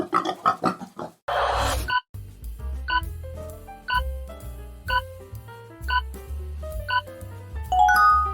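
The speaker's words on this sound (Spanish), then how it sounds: "Excelente. Es un cerdo." A pig grunts in a children's animal-sound quiz, a short burst of rough snorting heard over a bouncy backing tune with chiming notes that carries on after it.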